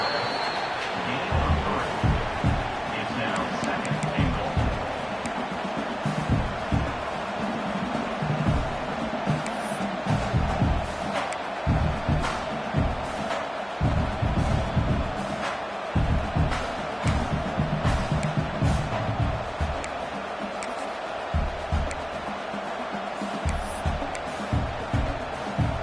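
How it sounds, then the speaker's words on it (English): A big stadium crowd roars without letup at an American football playoff game as the defense holds near the goal line, dense loud cheering and shouting filling the whole stretch. "this big crowd doing everything possible to inspire this defense down here near the goal line"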